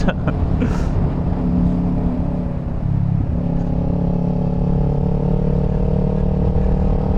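A Kawasaki Ninja 400 motorcycle ridden through a corner on a commute, its engine loud and close with a steady tone that drops off and then climbs again as it accelerates out, over constant wind rush.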